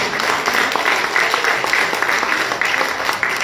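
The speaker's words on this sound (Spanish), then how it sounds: "pero gracias por el aplauso" Church congregation applauding during a Sunday worship service, steady mid-level clapping throughout with scattered individual claps audible in the crowd.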